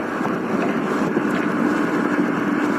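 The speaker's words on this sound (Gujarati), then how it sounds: "મારા પપ્પા એક્ટિવા ચલાવે છે" An Activa scooter being ridden on a road, its steady engine drone mixed with rushing wind noise against the microphone, continuous and fairly loud throughout.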